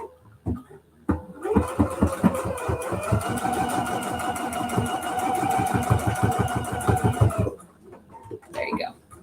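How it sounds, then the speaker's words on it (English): A sewing machine runs a straight stitch along the edge of fabric with elastic inside, a steady, close, rhythmic whir that lasts about six seconds before stopping, with brief handling sounds before and after. "we don't want to sew through our elastic when we sew this closed"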